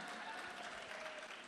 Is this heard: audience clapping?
yes